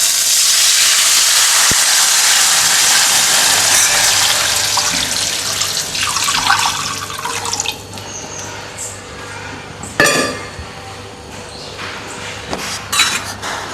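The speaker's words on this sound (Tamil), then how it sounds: "அதனால நான் ஒரு 3 கிளாஸ் தண்ணி ஊற்றுறேன்." Water splashes and hisses steadily into a hot pan of rava for kesari, loud at first then easing, with a couple of sharp metallic clinks near the end.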